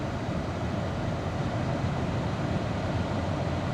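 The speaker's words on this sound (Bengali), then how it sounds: "হ্যাঁ, একটা ট্রেনও আসছে। Yes, train is coming." A train rolls along the Batticaloa–Colombo railway line in open green country in Sri Lanka, a steady loud rumble with no distinct clacks, continuous throughout.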